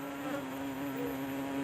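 Bees buzzing inside a wooden hive box, a steady close droning hum that stays even throughout with no voices.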